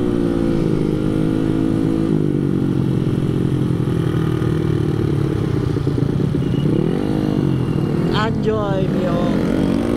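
A Mio motorcycle engine runs close and loud with a steady, rough idle that shifts its revs toward the end, and a voice is briefly heard over it.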